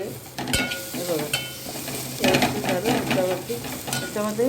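A spice masala is stirred and fried in a hot pan, a close, loud sizzle broken by spoon scrapes and knocks against the metal, with faint voices in the background.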